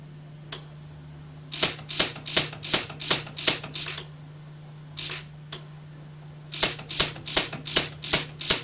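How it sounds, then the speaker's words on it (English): An Orion pulse welder fires rapid successive welds, each a sharp, bright snap. The snaps come in two quick bursts of about four or five per second, with a pair of isolated snaps between the bursts and a steady low hum underneath. "you're getting maybe 4 to 5 welds a second at that point, just by optimizing the speed of the welder"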